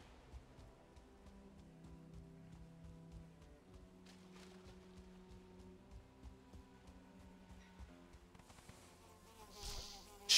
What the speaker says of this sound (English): those mosquitoes really come out of nowhere